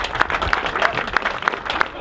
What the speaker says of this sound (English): can I just have a bit of a round of applause for Andy Bennett and Matt Godfrey?